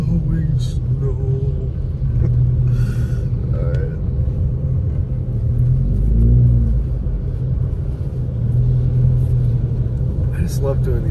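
Car driving slick, snowy roads around Big Bear Lake in California during blowing snow, a low steady engine rumble with road noise and brief swells, a voice talking over it at times.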